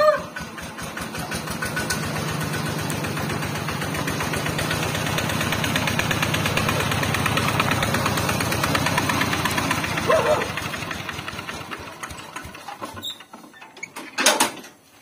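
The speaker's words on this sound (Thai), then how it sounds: "เครื่องนิ่มดีนะ ฟัง เสียงนิ่มด้วย" An old truck engine runs steadily with an even, rapid knocking beat, loud and close for most of the time, then fades to lower rumbles with a few clunks near the end.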